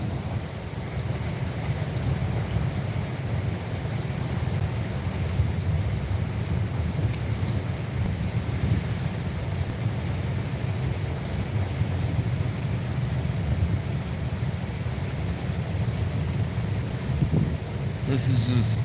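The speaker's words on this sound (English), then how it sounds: "There's some thunder right there coming." Low, continuous rumble of thunder during a thunderstorm out in the open, with steady wind buffeting underneath and no clear break, a distant roll that holds across the whole stretch.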